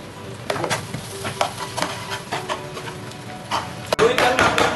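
Tofu and mayonnaise are stirred in a sizzling pan for sisig tofu, with repeated scraping strokes of a spatula against the pan and a louder clatter near the end.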